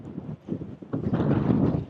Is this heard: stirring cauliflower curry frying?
no